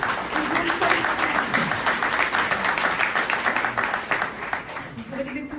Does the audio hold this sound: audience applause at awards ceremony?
yes